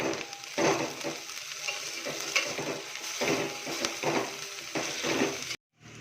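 Coriander stirred into a sizzling egg dum biryani masala with green chilies in a hot pan: a steady, close frying hiss broken by regular scraping stir strokes, cut off abruptly near the end.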